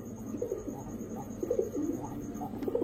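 Pigeons coo softly in soft, low, rolling calls that repeat across a steady background hum, with no voices.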